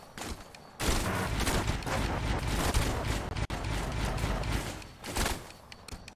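A car overheating in The Long Drive video game sputters and bangs in loud, ragged bursts with clattering mechanical noise, stopping and restarting in uneven surges, with no talking.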